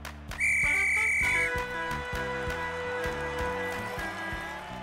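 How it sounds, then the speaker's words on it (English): A referee's whistle in an animated children's cartoon about a football game, one long, shrill, steady blast lasting about a second, followed by bouncy background music. "Blow your whistle and let the game begin, Charlie."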